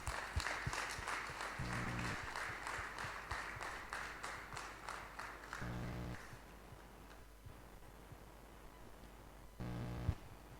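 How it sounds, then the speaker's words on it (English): Audience applause at a live brand launch event: a sustained patter of many hands clapping at moderate distance, fading over several seconds, with a few brief louder tonal bursts in between. "Let's encourage the spirit with a round of applause."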